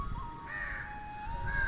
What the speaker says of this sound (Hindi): काक कहते हैं कौवे को